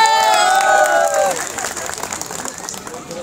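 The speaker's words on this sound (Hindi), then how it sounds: "आप लोग जोरदार ताली से आप लोग स्वागत करें।" Crowd applauding and cheering for a former deputy chief minister at a political rally in Bhagalpur, a dense clapping roar with voices mixed in that gradually softens but continues throughout.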